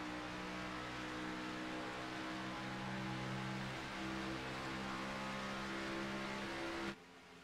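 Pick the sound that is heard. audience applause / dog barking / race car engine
race car engine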